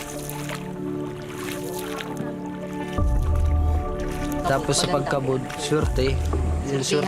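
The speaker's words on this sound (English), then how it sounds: "Jeremy travels 30 minutes by canoe to his job site in Panganiban." Water sloshing and dripping around a canoe traveling in Panganiban in the Philippines, soft liquid squishes under a narrator speaking over most of the clip.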